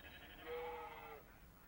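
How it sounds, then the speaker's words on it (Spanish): A sheep on a farm gives a single bleat of about a second, wavering and moderately close, against a quiet background. "Vivimos en una granja y tenemos muchas ovejas y ovejitas."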